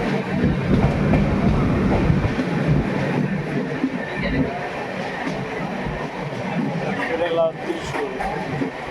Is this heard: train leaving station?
yes